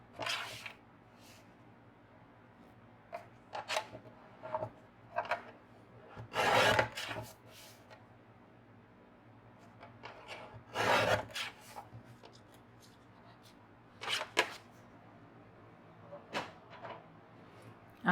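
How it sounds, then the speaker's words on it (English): A Tim Holtz paper trimmer slices a 4 by 3 1/4 inch card panel, heard as a few short, close rasping slides and light scrapes spaced across otherwise quiet handling noise. "I'll use my Tim Holtz trimmer for that"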